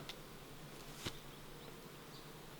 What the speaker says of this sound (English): There's a lot of bees on this screened inner cover.